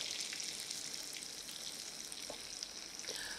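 Tofu deep-frying in hot oil for a Chinese dish, a steady soft sizzle and crackle close up, with a few small pops and no talking.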